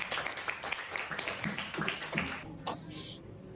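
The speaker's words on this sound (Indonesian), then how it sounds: "Ya, bagus, tepuk tangan." Applause from a class of secondary-school students in an Indonesian language lesson, a dense patter of claps lasting a few seconds and fading out, with a brief tap afterward.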